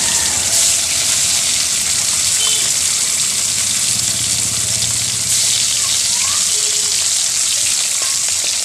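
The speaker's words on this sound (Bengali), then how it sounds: "এবারে আমি কড়াই মাছ একটা একটা করে দিয়ে দেবো" Fish fries in hot oil in a wok, producing a loud, continuous hiss and sizzle up close that stays even from start to finish.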